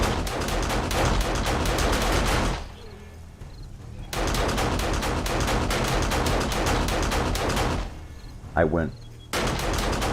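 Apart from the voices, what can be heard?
gunfire in the video game 7 Days To Die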